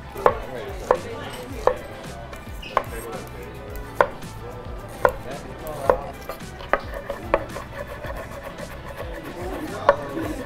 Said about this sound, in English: I am going to be dicing up a red onion and some green onions